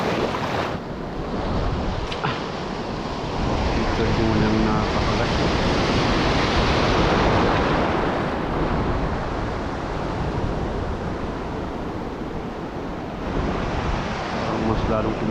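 Big sea waves crash and churn against a rocky shoreline during a lure-fishing outing, a steady loud roar with gusting wind buffeting the microphone, while someone talks over it.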